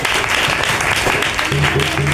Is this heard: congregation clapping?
yes